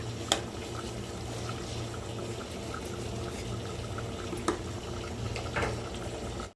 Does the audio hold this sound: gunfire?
no